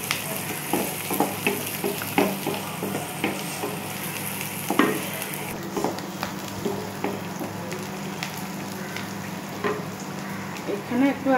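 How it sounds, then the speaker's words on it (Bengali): Onions and green chilies fry in a pan with a steady soft sizzle, broken by scattered clinks and scrapes of stirring, heard close and fairly quiet. "পেঁয়াজগুলো বেশি ভাজবো না"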